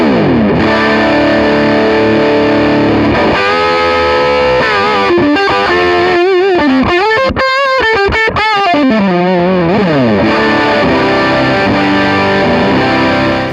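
Electric guitar played through a distorted amp tone on an Axe-Fx II with a different cabinet simulation selected, loud and sustained chords with sliding bends over about thirteen seconds, heard alone.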